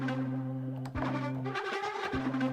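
Two East West LO-FI virtual instrument samples, Bad Breath and War Horn, layered into one sound: a droning horn-like tone with gritty textured swells and short breaks, heard alone.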